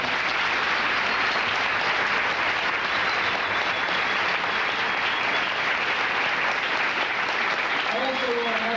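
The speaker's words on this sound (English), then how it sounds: "let's give him another round of applause" An audience at a lecture by Dr. John H. Clarke on the African Holocaust breaks into loud, sustained applause, a dense unbroken roar of clapping that fills the room until a voice begins at the very end.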